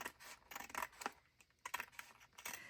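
Scissors trim a taped page in a B6 creative journal, giving soft close snips and crisp paper scratches in a quiet, irregular run, with no talking.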